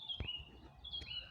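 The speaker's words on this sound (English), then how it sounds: "Oh, there's a fantail." A fantail gives two brief, thin, high chirps about a second apart, faint and outdoors, with no other sound around them.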